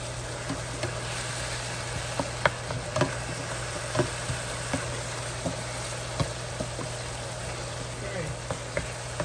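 Seasoned meat sautéing in a pan for Sunday dinner, a steady low sizzle running throughout with scattered clicks and scrapes of stirring, close by.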